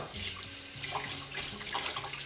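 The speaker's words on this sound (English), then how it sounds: "I need to put in a bit more water." Tap water runs steadily into a basin set up for soaking dirty oven trays, a close, continuous rushing splash for about two seconds with no talk.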